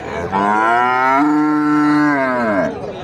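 A cow at the weekly Sarulia cattle market lets out one loud, drawn-out moo lasting nearly three seconds, close by and rising then falling in pitch.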